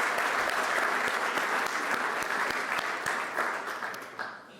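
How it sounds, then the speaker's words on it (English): A crowd claps for sponsors at a conference opening ceremony, a full, steady burst of applause that gradually thins and fades toward the end. "I would like us to applaud them"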